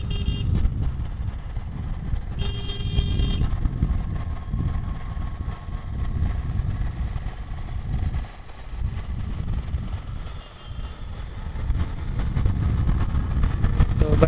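A motorcycle on a long road ride between Delhi and Uttar Pradesh, its engine drone and road rumble steady and close throughout, with a brief higher horn-like tone early on.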